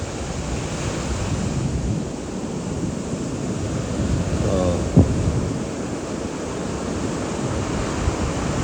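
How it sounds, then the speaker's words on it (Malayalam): Sea waves roll in at the shore in a steady, broad wash of surf, loud and near, with wind buffeting the microphone throughout and a brief knock midway. "അങ്ങോട്ട് പോവുകയാണ് കടലിൻ്റെ സൈഡിലോട്ട്."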